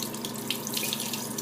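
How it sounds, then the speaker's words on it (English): Warm water runs steadily from a tap into a sink, a close, even splashing stream with no break. "I'm just going to start off by having the water at a warm temperature, not too hot, not too cold."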